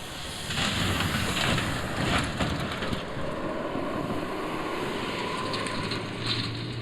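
The engine of a heavy off-road robotic ground drone runs at a steady, even hum. It stays moderately loud throughout, with a low drone and faint higher tones above it.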